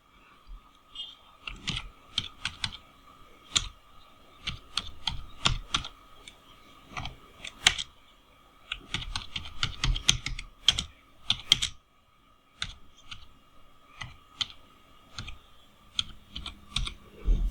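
Quick bursts of close computer keyboard typing while editing Canva text, clustered key clicks separated by short pauses in a quiet room.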